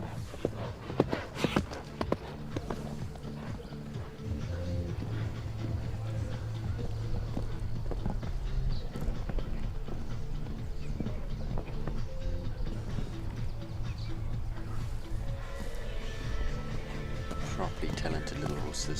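A young show jumping horse at an FEI World Cup qualifier in Maple Ridge thuds its hooves on the arena surface during a round. Scattered hoofbeats and landings sit under steady commentary and crowd ambience.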